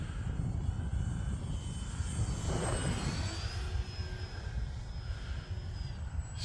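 An Arrows T28 electric RC model airplane flying overhead on a 3S battery, a thin whining motor drone rising and shifting in pitch over steady outdoor wind noise, moderately distant, no talk.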